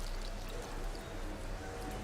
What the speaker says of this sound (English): we're just gonna add a little bit more water to almost cover it completely